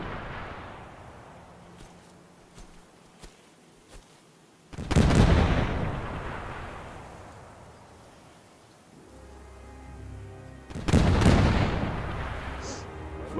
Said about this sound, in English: The radio man just sent the coordinates to the 0. artillery section, which will start hitting the area pretty soon